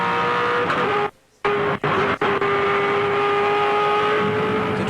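V8 Supercars racing at Phillip Island in the 2007 championship: a loud, sustained engine roar with a steady high whine, briefly cut by a silent gap, then interrupted by short shifts or lifts before resuming at full throttle.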